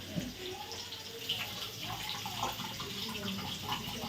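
Water trickles slowly and faintly from a tap in a home kitchen, a soft continuous running sound with light splashes and background room noise.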